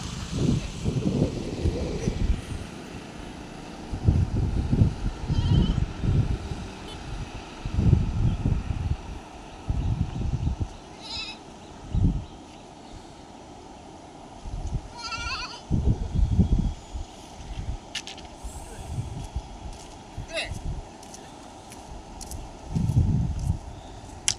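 A goat kid bleats repeatedly outdoors in a riverside setting, faint, thin calls scattered through steady wind noise and low rumbling, with occasional soft thumps.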